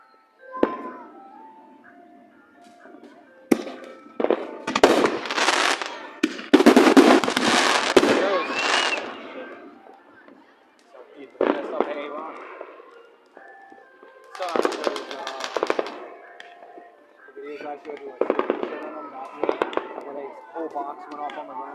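Fourth of July fireworks exploding at a backyard-style show, with bursts of crackling and popping in clusters across the stretch, some loud and close, while people talk and voices rise over the noise.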